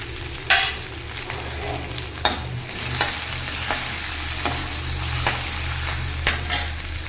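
Cumin seeds fry in hot oil in a pan, a steady sizzling hiss broken by several sharp clinks and scrapes of a spoon stirring, close and moderately loud, without talk.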